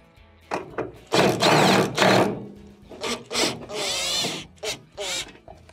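Phillips screws being removed from a drum baffle with a power driver, several loud whirring bursts up close, separated by short pauses and handling clatter.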